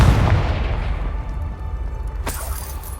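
A Confringo spell explodes in Hogwarts Legacy, a loud deep boom that rumbles and slowly fades, followed by a brief sharp crackle near the end.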